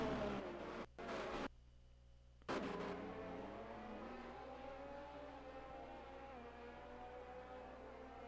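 F1 race cars slipstreaming in the F1 22 video game at Great Britain, with high, whining engines whose pitch rises and shifts through gear changes, sustained and fairly loud after brief cuts.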